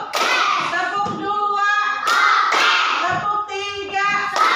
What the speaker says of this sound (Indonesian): Tepuk 1, tepuk 2,